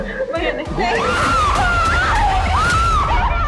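A girl screams inside a bank, with loud, high, wavering cries rising and falling over a noisy, tense background commotion.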